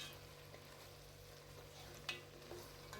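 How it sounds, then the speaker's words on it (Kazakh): Carrots frying with browned onions in a pan give off a quiet, steady sizzle, with a couple of faint clicks from stirring. "Пиязымыз қызарғаннан соң үстіне сәбізімізді салып қуырамыз."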